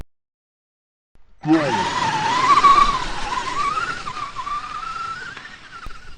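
Brushless Traxxas Summit RC truck running on 6S, its wheels spinning on wet grass in second gear with all diffs unlocked. A loud, whining motor rises after a second of silence and holds steady, with skidding tire noise throughout.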